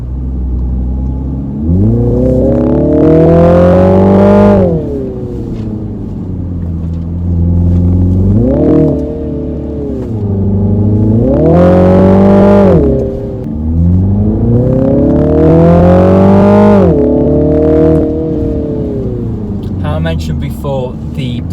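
A 2021 Mini Countryman JCW sports SUV's 306-horsepower engine revs hard several times, surging and falling in long rising sweeps as it accelerates, close and powerful.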